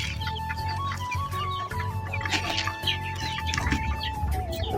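Farm chickens and their chicks cluck and cheep close by in a busy flock. Thin high peeps run continuously over softer low clucks, with no voices.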